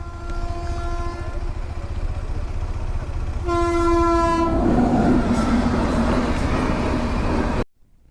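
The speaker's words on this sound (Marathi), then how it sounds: "रेल्वे आलेली आहे." At a railway crossing near Khadakwasla Dam, Pune, a train sounds its horn in two long blasts, then rumbles and clatters past close by, wheels clacking steadily before the sound cuts off abruptly.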